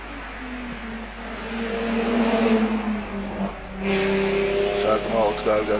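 A BMW 330 Ti race car climbs the final section of the Tskneti-Kojori hill climb, its engine note rising and shifting through revs under a commentator's steady talk, growing louder toward the end.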